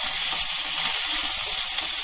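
Green chillies fry in a small amount of hot oil, giving a steady, bright sizzle that continues without a break, close and fairly loud.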